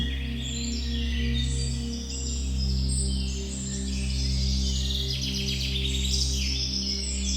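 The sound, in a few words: birdsong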